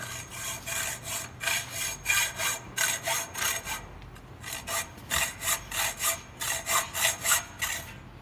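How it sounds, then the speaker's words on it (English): A hacksaw is pushed and pulled by hand in steady back-and-forth strokes, each rasping stroke close and clear, with a brief pause before the rhythmic sawing resumes. "So we're teaching them to use a manual saw, which is the hacksaw."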